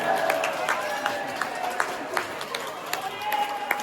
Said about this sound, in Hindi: एक बार सब लोग प्रेम से ताली मार के हंस जाओ भगवान के दरबार में